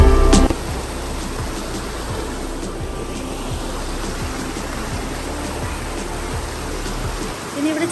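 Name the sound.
stream water flowing under a small bridge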